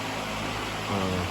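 Broad steady whooshing hum of an electric fan running close by in a workshop, constant and fairly loud throughout.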